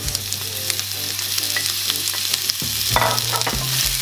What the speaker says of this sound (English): now you can add garlic ginger paste and some onions